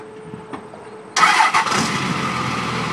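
A 2002 Dodge Ram 2500 with a Cummins diesel engine cranks and fires up after a second of quiet, then settles into a loud, steady clattering idle close by.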